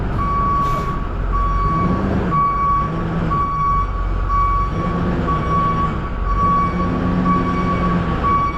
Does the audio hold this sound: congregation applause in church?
no